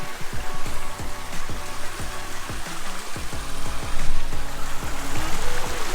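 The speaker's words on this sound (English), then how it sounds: "We're going to have a swim through here." Close, continuous water splashing and rushing as someone swims through a river gorge in the Coffs Harbour hinterland, with irregular sloshes and churning water throughout and no talking.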